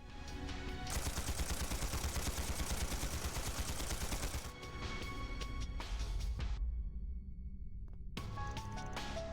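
Rapid gunfire in the video game Trails Through Daybreak, a dense burst of continuous shots for several seconds, then scattered sharper shots with brief pauses and a short silence, fairly quiet overall.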